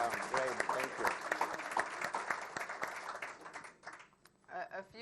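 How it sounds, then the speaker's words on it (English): Audience clapping for a speaker at a World Affairs event on Mexico, a moderate steady patter of hands that thins and fades toward the end with a brief swell at the close. "Please join me in giving a round of applause to Consul Obrador"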